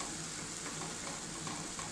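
Tomatoes and okra cooking in a pan for a South Indian okra stir-fry, giving a steady, close, soft sizzle and crackle with no voices.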